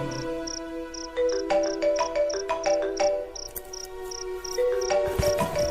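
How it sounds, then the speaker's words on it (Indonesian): A melodic phone ringtone plays alone, a repeating pattern of bright electronic tones over a steady sustained note, loud and close. "handphoneku berdering."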